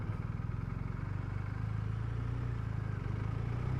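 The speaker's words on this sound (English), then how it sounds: "There's a lovely note from that exhaust as well. It's kind of like a deep thrum." BMW R1250RT touring motorcycle with the 1250 ShiftCam engine, a steady deep, throbbing exhaust note at a constant idle or low rev, close and continuous throughout.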